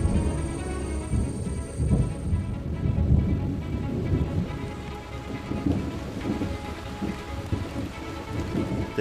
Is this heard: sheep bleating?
no